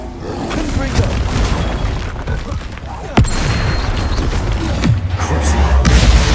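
A Confringo blasting spell explodes in Hogwarts Legacy, with a sharp blast near the middle and another burst later over dense, loud game noise and rumble, while a voice speaks.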